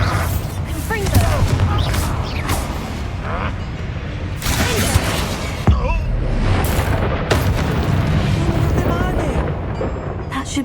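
Confringo fire spells burst in rapid succession during combat in the Hogwarts Legacy video game, with loud booming explosions and crackling impacts repeating over a dense, steady battle din, with voices heard amid the action.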